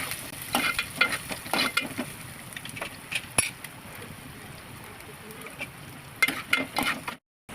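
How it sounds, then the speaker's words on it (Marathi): Onion with cumin and bay leaf sautéing in hot oil, a steady close sizzle broken by repeated spoon scrapes and stirring strokes, with no talk. "कांदा तेलामध्ये परतून घ्यायचा व्यवस्थित"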